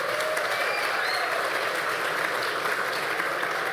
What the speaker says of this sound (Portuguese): Parabéns à senhora Olga, uma salva de palmas.